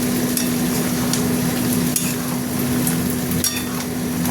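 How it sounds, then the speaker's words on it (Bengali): Pointed gourd and potatoes fry with spices in hot oil, a steady, loud sizzle throughout, broken by light scrapes and taps of a stirring utensil against the pan. "এবার আমি পটলগুলো দিয়ে একসঙ্গে কষবো।"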